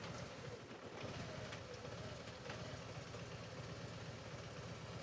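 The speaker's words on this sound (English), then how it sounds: "Exhaust blowing a bit there, I think." A warm engine idles steadily with a rough, leaky exhaust blowing, giving a constant low rumble with a faint hissing puff. It is fairly quiet and uniform throughout, with no talking.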